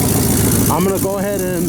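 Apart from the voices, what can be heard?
1978 Chevy truck engine running with clogged exhaust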